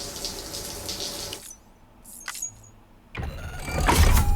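A shower runs in the Death Stranding video game, with a rushing water hiss that drops away briefly and then returns louder and fuller toward the end.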